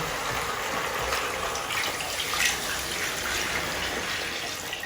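Water pours steadily into a cooking pot with a broad rushing splash for Arab kabsa rice soup, continuous and fairly close, with no talking.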